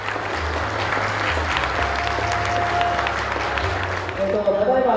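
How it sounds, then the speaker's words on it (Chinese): Warm applause fills a wedding banquet hall at a hotel, with dense sustained clapping from a crowd of guests over music and a voice on the microphone. "掌声欢迎。"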